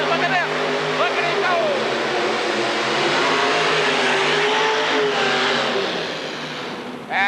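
A roaring engine dominates at a 1986 indoor modified tractor pull, where a tractor with two 557 Aries engines sends out a loud, sustained roar that eases slightly near the end. A commentator talks over it throughout.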